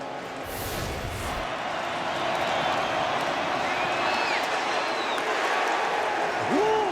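A college football stadium crowd at Colorado State vs Colorado roars steadily after a hard hit, a broad sustained cheer with whistles and woos, with a commentator talking over it.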